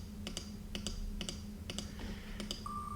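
Word wheel spinning in the Wheel of Words game, a steady series of light, evenly spaced ticking clicks, faint and alone, ending with a short electronic tone.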